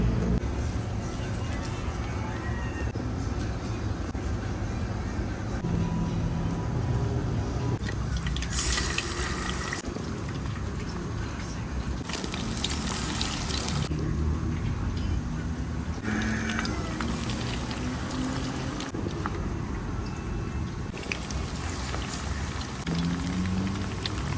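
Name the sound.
chicken frying in a pan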